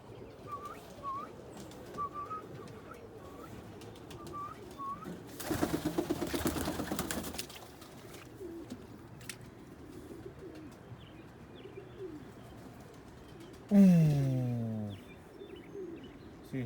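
Pigeons in a loft coo softly in repeated short calls, with a burst of fluttering wings partway through and a brief loud sliding whistle near the end.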